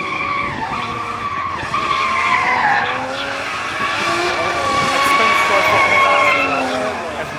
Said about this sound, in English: It's real hard to control that car doing speed.